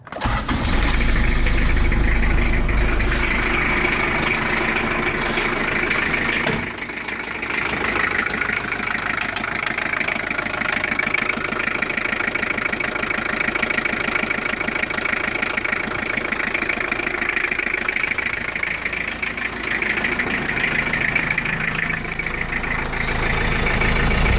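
An imported car's diesel engine with glow plugs cranks, catches and settles into a continuous rough idle with a knocking clatter, loud and close throughout with no talking.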